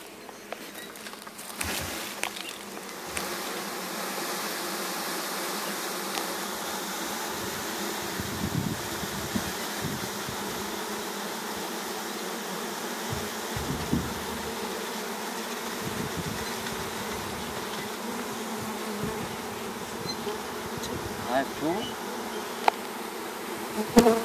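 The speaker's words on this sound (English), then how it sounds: "A lot of bees in there" Dense, steady buzzing of many bees fills the air throughout as they are dumped into a hive, with occasional soft knocks and rustles close by.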